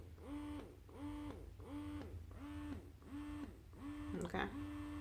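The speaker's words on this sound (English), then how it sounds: "You can hear the air to tell that it's sucking" A Baby Buddha breast pump connected to Freemies tubing cycles rhythmically, each suction stroke a faint repeating whir and hiss about every 0.6 seconds, quiet and close, ending with a small click.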